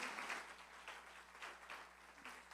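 A church congregation applauds in a short, moderately loud round of clapping with uneven bursts, the sound fairly close and unaccompanied by speech.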